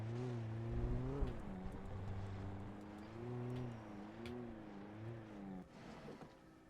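A car engine in the video game Alan Wake hums with a steady tone that rises and dips as the car speeds up and eases off, fairly quiet and alone with no talk.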